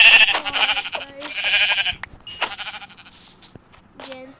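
Sheep bleat repeatedly in a Minecraft game, a few calls spread across the moment, fairly loud and close, with no talking over them.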